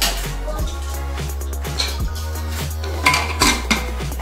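A metal pressure cooker lid clanks into place on a pot of potatoes and greens on the stove, with a couple of sharp clinks near the end over a steady low hum.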